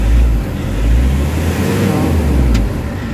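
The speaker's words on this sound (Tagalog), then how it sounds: "kung papakiramdaman mo yung engine RPM, medyo smooth na yung under ng engine, hindi na gaano nagwa-wild" The engine of a Nissan Urban Premium NV350 van with a low-power, throttle-delay fault runs nearby at a steady, fairly smooth rumble, with a strong low drone and mild swells in loudness.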